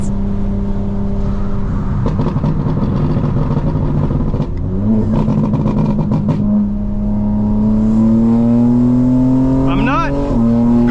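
A tuned 2025 BMW M4 Competition xDrive pulls away at part throttle on cold tires, its engine drone rising steadily in pitch up close from inside the cabin, with a brief shift and someone talking over it.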